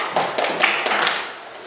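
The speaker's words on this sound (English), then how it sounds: "Please clap for him" Applause from students in a chemistry classroom, a short burst of clapping that rises quickly and trails off within a couple of seconds, fairly close and alone.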